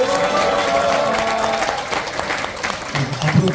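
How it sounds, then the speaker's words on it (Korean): Audience applause after a lecture at a Korean political party event, steady clapping filling the room with speech-like voices mixed in, tapering slightly toward the end. "열정적인 강의를 해주신 우리 박구영 원장님께 다시 한번 박수 부탁드리겠습니다."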